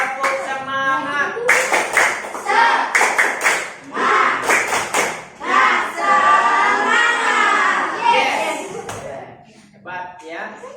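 A class of fifth-grade pupils claps out a rhythmic spirit clap in a classroom, bursts of sharp claps in patterned groups mixed with children's voices chanting and talking throughout.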